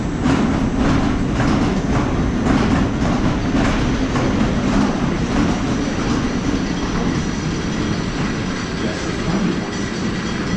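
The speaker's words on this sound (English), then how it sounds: "while riding the roller coaster, please keep your arms and legs inside the train at all times" A roller coaster train at Lagoon, heard from the back seat, rumbles and clatters along its track, loud and continuous, with rhythmic clacking over the rails.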